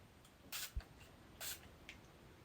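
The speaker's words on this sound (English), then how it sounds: "Just spraying in at the roots." Two short bursts of hair spray hiss at the roots, each about a quarter second, with a faint tap between them in an otherwise quiet room.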